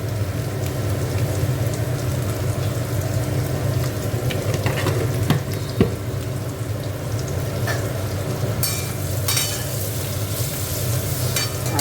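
Spices and turmeric sizzle steadily in hot oil while cooking methi shak, a dense continuous frying hiss with a few faint clinks and stirring scrapes, close and fairly loud, no voices.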